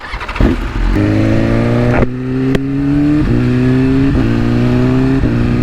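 A BMW S1000RR sport motorcycle revs through its gears while riding, loud close engine whine rising in pitch with several gear shifts, steady wind under it.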